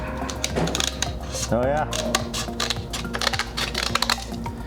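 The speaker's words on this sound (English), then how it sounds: "if you just grab those scissors, you can cut the edges off." Scissors snip the edges off a thin wet-layup composite fiber part, giving a series of crisp, close mechanical clicks and cuts, with a brief spoken remark partway through.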